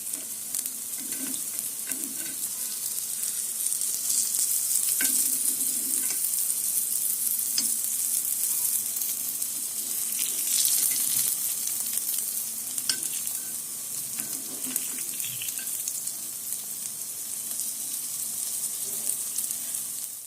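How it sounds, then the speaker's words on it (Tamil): Banana paniyaram made from nendran (Nethram) bananas frying in bubbling ghee in a paniyaram pan, a steady close sizzle with faint clinks and low bumps as the pieces are turned, continuous throughout. "இப்போ போய் பணியார சட்டி வச்சு அதில் நெய் ஊற்றி இதை பொரிச்சு எடுத்துடலாம்"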